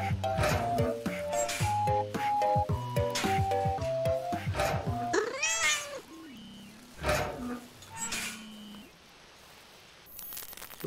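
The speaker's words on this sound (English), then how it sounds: "No, that was the cat." A cat meows in the horror video game Nextbot Graveyard, rising out of a busy mix of game music and effects with a few rising, wavering cries around the middle, fairly loud.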